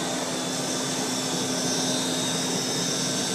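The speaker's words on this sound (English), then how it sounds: "It just has that little hum to it that's so pleasant to listen to while you go vacuum." A 1940s Eureka Roto Matic Model 800 vacuum drones on continuously, an even rush of air layered over a soft steady hum, close and unchanging.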